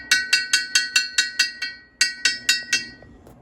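Rapid sharp metallic clanks from an impact gun striking metal on a non-running Scania airfield refuelling tanker, about a dozen ringing strikes in two bursts with a short pause between, loud and close, no talking.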